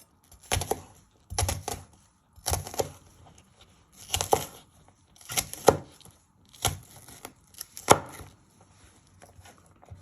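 A kitchen knife slices through an onion on a cutting board while a chicken tagine is being prepared, giving about eight distinct, evenly spaced chops with a woody knock from the board, close up and with no talk.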